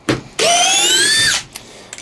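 A Makita 18V compact drill drives a fastener: a short tap, then a loud, steady high-pitched motor whine for about a second that cuts off abruptly as the fastener seats, followed by small clicks.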